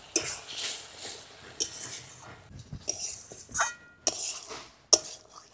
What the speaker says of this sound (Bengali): এবার ভেজে রাখা চিংড়ি মাছগুলো দিয়ে দেবো